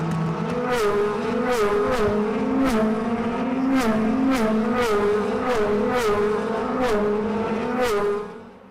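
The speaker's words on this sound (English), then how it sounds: "Brilliant shot there as the cars run over the camera." DTM touring cars racing at the Nürburgring in 2012, driving over a trackside camera: a loud, sustained engine drone with regular sharp pulses, holding steady before fading quickly at the end.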